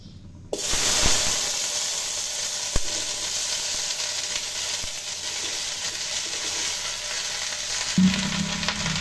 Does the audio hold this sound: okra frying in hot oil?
yes